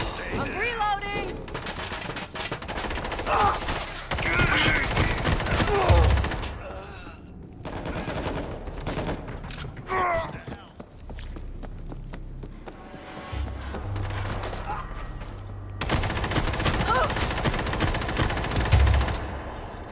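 Heavy gunfire in a World War Z multiplayer match against a zombie swarm: dense bursts of rapid shots, loud and close, with heavier booms near the middle and end and some faint voices underneath.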